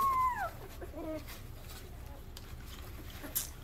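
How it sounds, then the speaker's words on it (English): Two-week-old Rottweiler puppies give a brief high whimpering howl at the start, a quieter yelp follows, then faint rustling and scattered soft noises fill the rest. "They're in there howling."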